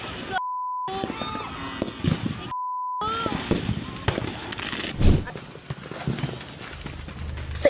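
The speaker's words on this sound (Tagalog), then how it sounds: "Kinukunan lang ng video ang nagpuputokang fireworks na yan sa Barangay de la Paz, Antipolo City" Fireworks go off during a New Year celebration in Barangay de la Paz, Antipolo City, where a row of firecracker stalls caught fire. Scattered pops and one sharp loud burst ring out amid crowd voices, after two steady electronic beep tones early on.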